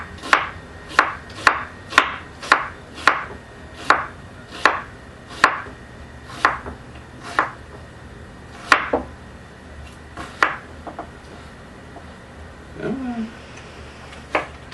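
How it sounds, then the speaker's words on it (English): A knife slices an onion thinly on a cutting board, a quick run of about ten crisp regular chops that slows into a few spaced cuts, close and clear with no talk. "just cutting the onion in half, then we're going to do the same thing with the onion that we did with the cabbage here"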